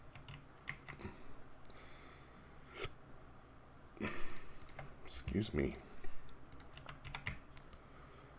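Typing on a computer keyboard while pressing OBS hotkeys during a modded Minecraft streaming session, scattered faint key clicks with a denser burst of taps midway, and a person briefly speaks.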